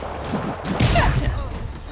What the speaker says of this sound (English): More rockets.